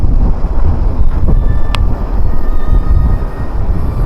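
Strong wind buffets the microphone at a hilltop viewpoint, producing a continuous loud rumbling roar that barely varies across the whole span.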